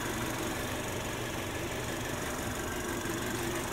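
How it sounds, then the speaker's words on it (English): The four-cylinder engine of a 2022 BMW 230i coupe running at a steady, even hum, heard from inside the car under broadband road and cabin noise, with no talking. "Fantastic little engine. Doesn't make the best sound, but it gets the job done."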